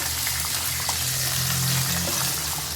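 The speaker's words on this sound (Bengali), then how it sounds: "দিলাম 1 ইঞ্চি আদার টুকরো। এটাও এখন আমি একটু ভেজে নেব।" Chillies and a piece of ginger frying in a pan for peanut coconut chutney, a steady loud sizzle with a low rumble underneath and no talking.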